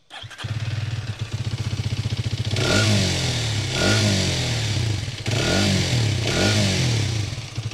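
A Hero Xtreme 250R 250cc motorcycle idles close by through its short muffler, then revs four times in quick bursts, each throttle blip rising and falling over the steady engine rumble.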